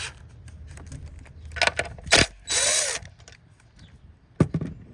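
Short loud bursts of a power tool whirring, one sustained for about half a second, with clanks and handling knocks between them, while replacing a coil pack connector on an Acura TSX K24 engine.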